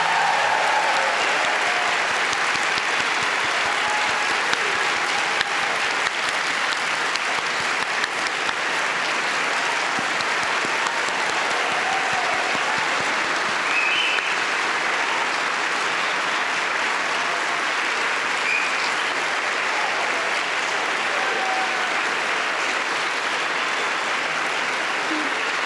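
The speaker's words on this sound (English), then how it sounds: "please, one more round of applause for our class of" An audience applauds at a 2022 PA program white coat ceremony at Wake Forest University School of Medicine, with sustained, even clapping filling the hall throughout.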